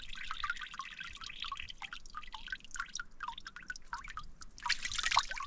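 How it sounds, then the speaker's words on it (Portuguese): Water dripping and trickling at a natural spring on a hilltop in the caatinga of the Seridó region, Rio Grande do Norte: steady close drips and splashes, briefly busier splashing near the end, with no voices. "No meio da caatinga, fonte d'água aí"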